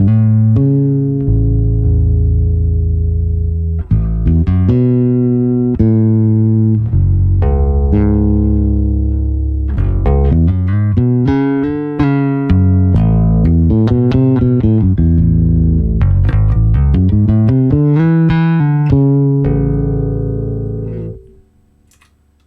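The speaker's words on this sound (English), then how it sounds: "an emulation of what some tape saturation and flutter and modulation would sound like" Guitar through a Strymon Deco pedal adding tape saturation, flutter and modulation, with sustained warbling notes and melodic phrases rising and falling, loud and alone, fading out at the end.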